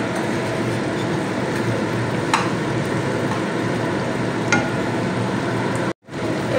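Fried prawns go into boiling gravy for a prawn malaikari, giving a steady, loud bubbling sizzle with occasional stirring clinks, ending in a sudden brief cutout.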